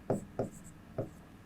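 A marker or chalk stroking across a board during a Class 10 maths lesson on cyclic quadrilaterals gives three short scratchy strokes, close and fairly loud, with brief gaps between them.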